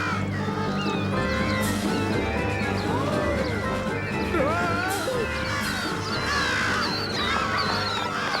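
Cartoon birds squawk and caw in a dense, frantic chorus of repeated harsh cries over busy background scoring, with a voice speaking among them.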